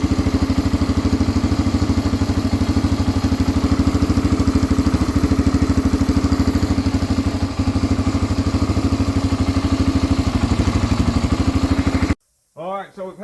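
A vintage barn-find Honda 350 three-wheeler engine running steadily just after its first start, a loud, close, even clattering idle that cuts off abruptly near the end.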